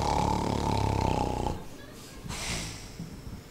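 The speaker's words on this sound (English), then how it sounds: "That grandmother has a mighty snore." A wolf lies asleep in bed, snoring loudly in a stage musical: a long, deep, rumbling snore for about a second and a half, then softer breathy snorts.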